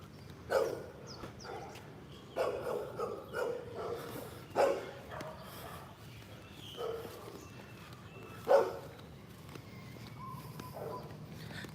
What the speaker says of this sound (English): I don't want to piss that dog off.